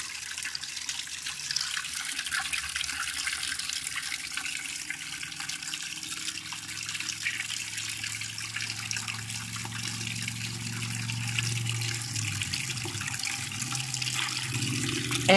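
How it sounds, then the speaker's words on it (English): A water pump on a Polaris 400 two-stroke draws water from a bucket and pushes it through the radiator, producing a continuous gushing, splashing stream with a steady low hum underneath. "That's a pretty good stream of water coming out of the radiator."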